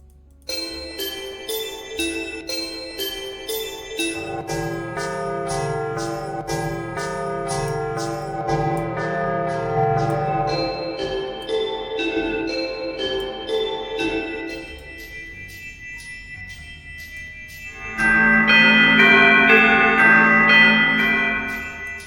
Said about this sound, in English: Next up, we've got the bells.